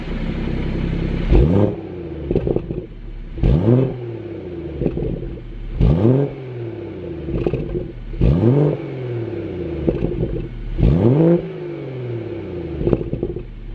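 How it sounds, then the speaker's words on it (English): A car engine with its exhaust valve held open revs sharply about six times in a regular pattern, each blip rising and falling, loud and close with a raspy exhaust tone. "So I'll do a couple revs for you guys"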